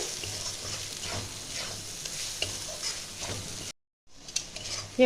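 Chicken masala sautés in oil in a pan, a continuous close sizzle broken by repeated stirring scrapes, with a brief silent gap near the end before the frying resumes.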